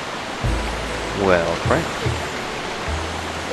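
A strong water current rushes in The Legend of Zelda: The Wind Waker as a steady, broad hiss that runs through the whole stretch, with a man's brief spoken reaction over it.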